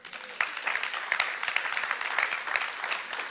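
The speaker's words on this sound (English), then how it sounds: "That's worth an applause." Audience applause: a dense, steady wash of many hands clapping that runs for a few seconds at moderate loudness, with no voices over it.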